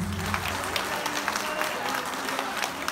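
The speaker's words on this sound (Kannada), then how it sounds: "ಎಲ್ಲ ವಾದ್ಯಗಾರರಿಗೂ ಮತ್ತೊಮ್ಮೆ ಜೋರಾದ ಚಪ್ಪಾಳೆ ಪ್ಲೀಸ್" An audience at a singing festival in Mysuru claps steadily for the musicians, a dense, quiet wash of applause with a voice speaking over it.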